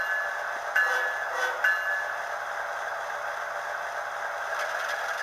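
A model-scale ES44 locomotive starts to move on its track, giving a faint, steady mechanical whir with a few light clicks and rattles near the start.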